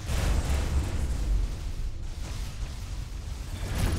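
Incoming missiles strike a ship in the space game Rebel Galaxy, a dense, loud rumbling blast of explosions that rolls on steadily with low booming weight throughout.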